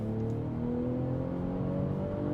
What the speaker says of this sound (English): Let me just floor it real quick into a corner.